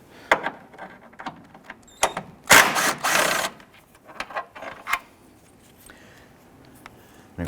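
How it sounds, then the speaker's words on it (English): A ratchet with a 14mm socket loosens bolts on a 2012-2017 Toyota Camry during a water pump replacement, giving scattered close mechanical clicks and a louder burst of rapid ratcheting in the middle. "Using a 14mm socket, we're going to remove a series of bolts."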